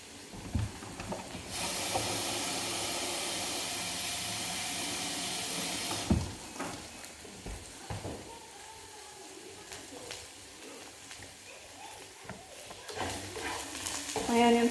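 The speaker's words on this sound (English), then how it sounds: "My onions are starting to look brown." Onions fry in a pan with a steady, close sizzling hiss for several seconds, followed by quieter crackling with occasional stirring scrapes and clinks.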